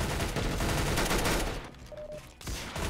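Rapid gunfire in the Roblox game Arsenal: a dense, loud stream of shots, a brief lull, then the firing resumes.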